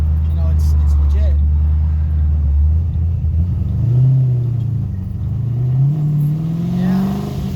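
A car engine, freshly fitted with a return fuel system, is revved in a steady loud drone, climbing in pitch twice and then settling slowly back down, hanging briefly before idle.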